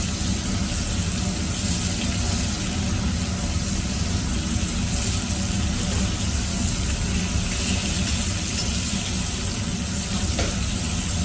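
Lamb searing in a hot pan, a continuous, even, close sizzle and crackle with no break, loud and steady throughout.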